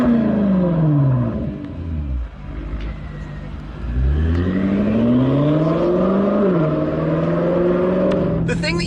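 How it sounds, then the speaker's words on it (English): A BMW M5 luxury four-door saloon serving as a safety car revs hard with throttle blips, its engine note rising and falling in strong sweeping pitches, loud and close throughout. "Head round back, I'll give you a few blips"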